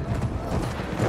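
A horse's hooves clatter in Battlefield 1, a quick run of close clip-clop beats over a steady background din, with no talking.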